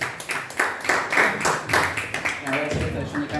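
A stand-up comedy audience claps to welcome the comedian Ramiro on stage, giving a rhythmic, pulsing run of applause that swells and dips in quick beats, with voices mixed in.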